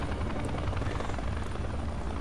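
A helicopter in the video game Gears of War, its steady rotor thrum and engine roar filling the whole stretch at constant loudness, with no talk over it.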